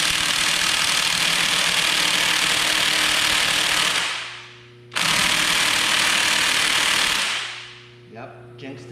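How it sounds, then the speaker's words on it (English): A 1/2-inch cordless impact wrench hammers at a tight part during 6.0 LS engine prep, in two loud, close bursts: a long run of about four seconds, then a shorter one of about two and a half seconds. "my 1/2-inch cordless impact tends to get them right out"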